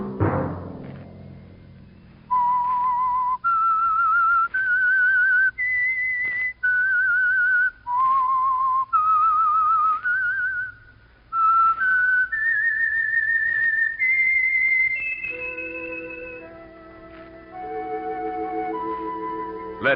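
Someone whistles the theme of The Whistler radio show alone, in a clear melody of sustained notes with short breaks between them, rising and falling, then ending in a lower, softer passage.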